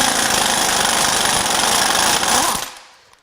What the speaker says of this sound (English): Forgot that the puller needs to be modified to get the crank pulley off.